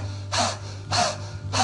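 Breath of fire yoga breathing done as rapid panting with the tongue out: three sharp, breathy bursts in a steady rhythm, close and fairly loud, with no talking.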